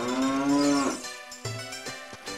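A cow moos in the Ocarina of Time randomizer game, one long, loud, drawn-out low call that drops off, followed by quieter clicks and game sounds.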